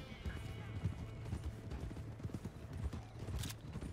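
Horse hooves clip-clop steadily in Red Dead Redemption 2 Online, a rhythmic run of close, moderate hoofbeats with a brief whinny-like rise, layered over continuous game ambience and some talk.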